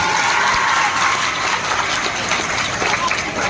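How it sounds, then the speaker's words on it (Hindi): A large crowd of students at a coaching institute's anniversary celebration claps, making a dense, continuous roar of applause that fills the hall at a steady, loud level throughout. "उन सारे बॉयज के लिए तालियां बजाइए"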